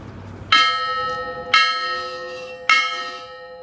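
An original mission bell rung by hand in a garden: three loud, bright metallic strikes about a second apart, each ringing on with a long, shimmering decay, close and alone.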